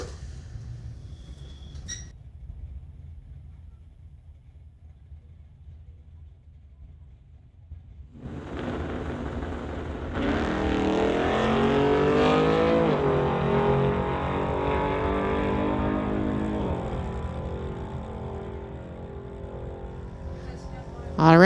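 Drag race between a 1996 Volkswagen Golf and a 1972 Chevrolet: after a quiet lull, engines roar up loudly, one climbing steadily through the gears in a long sustained pull before easing off.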